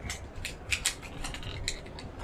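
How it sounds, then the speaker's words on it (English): A film roll is loaded into a camera with small mechanical clicks, creaks and ratcheting rustles, close and quiet, with no talking. "So I'm going to load this roll in."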